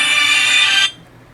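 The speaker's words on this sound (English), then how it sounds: "Sorry, my phone just rang." A mobile phone ringtone chimes loudly and steadily at close range for under a second, then cuts off abruptly, leaving a quiet room.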